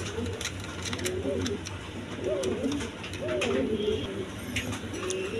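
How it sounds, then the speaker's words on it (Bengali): A pair of big-sized king pigeons coo in repeated low, throaty phrases at close range, with brief chirps and light background noise between calls. "দর্শক এখানে এক পেয়ার শৌখিন গ্যাটাপের কিং কবুতর আছে দেখেন"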